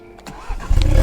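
Engine note from a Mini John Cooper Works with its exhaust valves closed, a short burst of low rumble that swells and settles into a steady loud idle close by.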